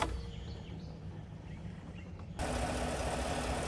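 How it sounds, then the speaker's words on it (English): A car engine idles after being jump-started, a faint, steady hum that turns abruptly louder and broader partway through, with no one speaking. "So I've got the engine running again."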